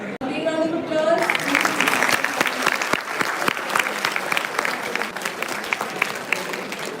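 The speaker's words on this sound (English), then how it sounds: "Big round of applause." Audience clapping in a hall after a leadership masterclass, a dense sustained round of applause that swells quickly and holds steady and loud to the end, with a brief voice heard at the very start.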